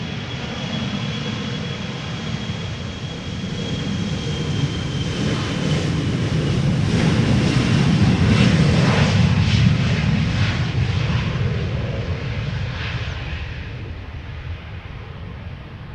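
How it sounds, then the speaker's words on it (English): A KLM Embraer 175 jet departs Amsterdam Schiphol, its broad engine roar swelling steadily to a loud peak as it passes close, then easing slightly while staying strong. "Embraer 175 with the big winglets outward standing, going to Bristol, KLM flight"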